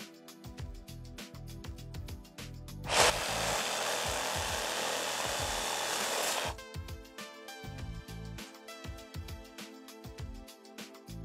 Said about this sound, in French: on va essayer de voir avec la scie sabre